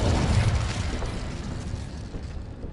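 An Incendio fire spell in Hogwarts Legacy bursts out as a loud, rumbling whoosh that hits hard at once, then crackles and fades over about two seconds.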